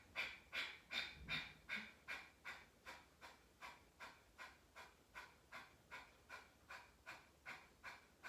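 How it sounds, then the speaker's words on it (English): Rapid rhythmic breath of fire during a heart-chakra yoga session, a steady train of short forceful nasal exhalations about two per second, close and fairly quiet, with no talking. "go ahead and do the breath of fire"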